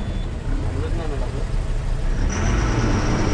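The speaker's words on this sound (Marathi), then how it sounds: "चला आता गाडी सुरू केलं हो." A travel bus on the Malvan run out of Badlapur idles and pulls away with a steady, close, low engine rumble and broad road noise, with faint voices in the background.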